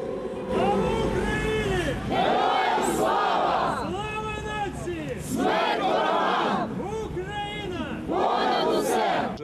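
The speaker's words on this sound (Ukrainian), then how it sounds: "співали гімн, вигукували гасла майдану" A crowd of over a thousand people gathered at the opening of a monument to the Heavenly Hundred in Mykolaiv, chanting Maidan slogans in loud, rhythmic unison bursts separated by short pauses.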